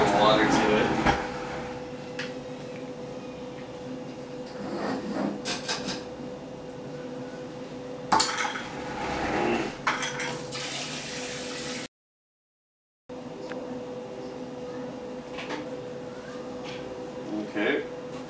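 Tap water runs into a plastic beer brewing bucket to top it up to 5 gallons, a steady close pour with handling knocks and a brief cut near the end.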